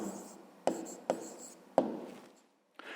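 Handwriting with a pen on paper while noting a math answer: steady soft scratching strokes broken by three sharp taps, close and quiet, with no voice.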